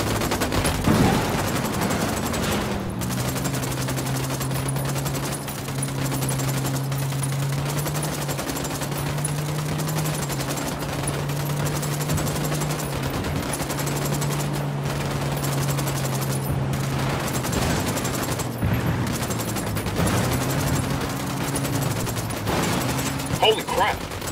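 Video-game gunfire in Ghost Recon Wildlands crackles in sustained bursts of automatic fire under steady game ambience, with a low droning hum running beneath the shots throughout.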